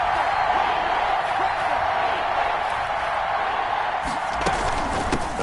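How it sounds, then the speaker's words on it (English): Steady roar of a video game stadium crowd at an American football game building ahead of a big third down, a continuous dense wash of cheering with a few louder swells near the end, while a commentator talks. "the crowd getting into it as we come up on a big third down"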